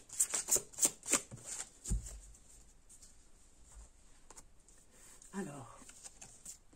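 Oracle cards shuffled by hand during a meditation reading, a few quick close riffles and taps at the start, then faint handling under someone speaking quietly.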